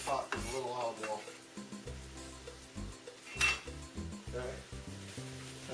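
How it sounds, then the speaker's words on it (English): Onion and chopped jalapeno sauteing in a little olive oil in a pot for chili, with a soft steady sizzle broken by repeated close scrapes and clinks of a utensil stirring against the pot. "And we're sauteing onion and jalapeno in that pot with a little olive oil."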